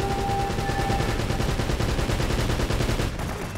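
Rapid machine gun turret fire in Uncharted: Drake's Fortune, a dense continuous burst of loud chattering shots that cuts off abruptly near the end.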